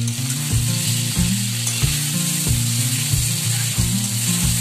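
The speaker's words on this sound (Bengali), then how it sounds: "আদা পেঁয়াজ রসুন হলুদ লঙ্কা বেশ করে কষে ফেলেছি।" Ginger, onion, garlic, turmeric and chili spices fry in hot oil with a loud, steady sizzle and crackle, punctuated by rhythmic scraping and stirring strokes in the pan.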